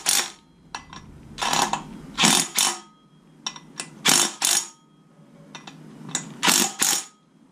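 A ratchet wrench snugs down the water pump bolts on a Jeep TJ. Repeated bursts of close, crisp ratcheting clicks come in short runs with brief pauses between them and no talk.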